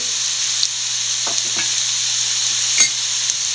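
Turmeric and coriander powder sauté in a pan for fish molly, a close steady hiss with a few soft stirring scrapes and a low constant hum beneath.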